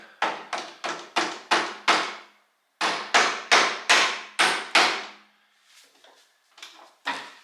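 A pin is hammered into the steering wheel shaft of a trail vehicle in two quick bursts of five or six sharp metallic strikes, loud and close, followed by a few lighter taps.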